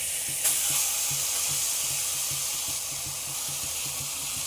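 Chicken pieces fry in a kadai with a steady bright sizzle and hiss, plus a soft repeating low thump underneath, heard close and alone.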